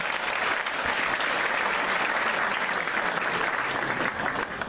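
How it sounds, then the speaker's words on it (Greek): Sustained audience applause for a music group, dense and steady throughout, a full room clapping at close range with no talk over it. "χειροκρότημα από όλους μας."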